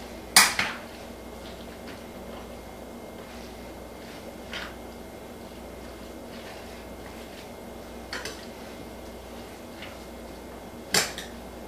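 Utensils knock against a pan while sausage dressing is mixed, with a few sharp metallic clinks spread out over a soft, steady room background.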